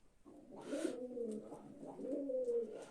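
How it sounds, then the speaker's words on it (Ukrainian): Pigeons coo close by, soft throaty calls repeating in a gentle rolling rhythm against a quiet background. "файні голуби, файно годують"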